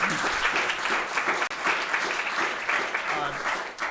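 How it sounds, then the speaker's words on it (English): Audience applause at the MITdesignX Spring 2022 pitch day, a dense, sustained round of clapping filling the room, with a brief dip midway before carrying on. "a round of applause for coming and joining us today"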